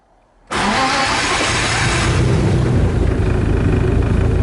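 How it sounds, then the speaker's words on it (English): A drift car engine cranks and catches abruptly after a brief quiet moment, then settles into a loud, steady running rumble close by. "And then we'll start the engine."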